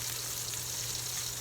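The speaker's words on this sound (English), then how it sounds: "so you don't get splatter on your wrists that actually hurts because it's hot grease splattering" Tomahawk pork chops sear in hot grease in a frying pan, giving a steady, even sizzle and crackle that continues without a break at moderate loudness, with no talk.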